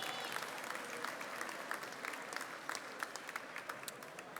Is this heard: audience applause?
yes